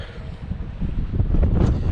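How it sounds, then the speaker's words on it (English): Loud wind buffeting the microphone, a low rumbling roar that builds and stays heavy throughout. "it's extremely windy"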